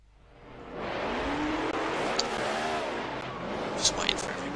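NASCAR race cars at Daytona in a racing video game, a steady loud engine roar with cars passing and occasional tire squeal.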